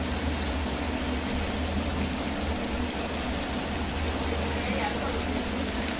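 Steady, loud rushing water in the survival game The Forest, a continuous broadband wash with no breaks, heard up close.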